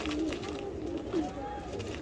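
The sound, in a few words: racing pigeons cooing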